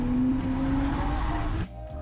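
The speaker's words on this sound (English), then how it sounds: "Take note of the sound that the tires are making right when I turn in." A drifting car turns into a corner, its tires squealing with a sustained tonal whine over a loud engine roar, which drops away abruptly near the end.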